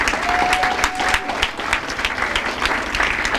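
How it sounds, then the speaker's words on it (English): Audience applause at a school hall of fame induction luncheon, steady dense clapping from a roomful of people, fairly close and sustained throughout. "let's have a round of applause for all of those responsible for preparing today's lunch"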